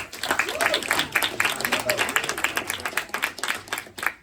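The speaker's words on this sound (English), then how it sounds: "So give her a round of applause." Audience applause in a conference room at a community safety meeting, a burst of scattered clapping lasting a few seconds, fairly close, mixed with some crowd murmur.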